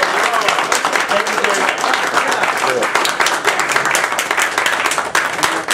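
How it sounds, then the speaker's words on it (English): An audience at an economics debate applauds the speaker with sustained, dense clapping that runs loud throughout, while someone briefly speaks over it. "Let's have a warm round of applause for the speaker."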